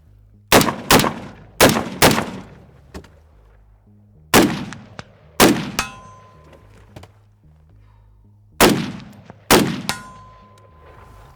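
An HK G3 battle rifle fired outdoors: eight loud, sharp shots, mostly in quick pairs with pauses between, each ringing out with a metallic crack and short echo.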